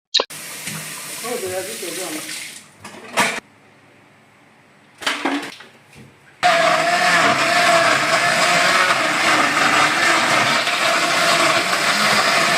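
A loud, steady electric blender grinding chopped cassava roars continuously after a few short bursts and quiet pauses at the start.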